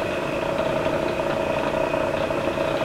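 An engine running steadily at about 500 RPM, a constant close idle hum with a slightly rough, even texture and no talk.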